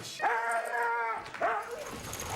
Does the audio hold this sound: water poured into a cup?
no